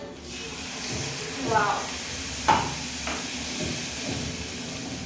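Yogurt sizzles in a hot oil tempering with turmeric, a steady sizzling hiss throughout, with a brief exclamation from a voice over it.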